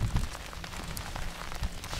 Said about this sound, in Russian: А-а, дождь пошел